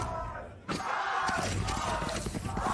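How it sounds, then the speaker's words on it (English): Esports arena crowd at a VCT Americas Valorant match, NRG versus Leviatán, bursting into a loud sustained roar of cheering and yelling that swells suddenly and stays full. "the crowd's going wild"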